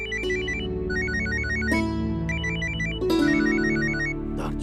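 A phone ringtone plays a repeating electronic melody in short looping phrases over a low sustained tone, clear and close.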